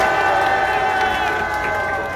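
Loud crowd cheering and applause at a youth rally on the eve of the March 1st holiday in Korea, a dense sustained roar that fades slightly toward the end.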